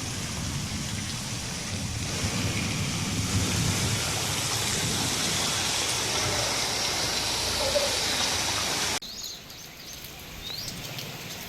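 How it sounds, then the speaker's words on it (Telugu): Heavy rain pours across Nizamabad district, a loud, steady roar of falling water that holds for several seconds, then cuts abruptly to a quieter, sparser patter of drops. "ఉమ్మడి నిజామాబాద్ జిల్లాలో విస్తారంగా వర్షాలు కురుస్తున్నాయి"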